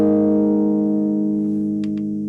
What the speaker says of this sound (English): you can hear that distortion coming back because it's really squashing the noise floor